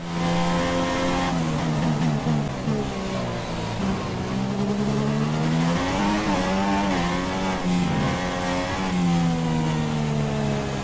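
A Formula 1 car in the F1 2016 racing game screams through the final sector of a Spanish Grand Prix qualifying lap on soft tyres. The engine whine runs loud and continuous, rising and dipping with each gear shift and corner, with no talking.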